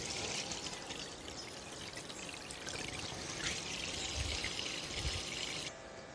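A portable camping shower pump runs steadily, pushing a continuous stream of water that pours and splashes without pause for several seconds, close and fairly loud.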